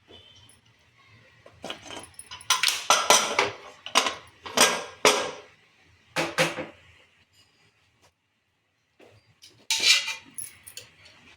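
A pressure cooker is opened after cooling, its lid and metal pots and utensils clanking and clattering in irregular bursts with quiet gaps, close by and without talk.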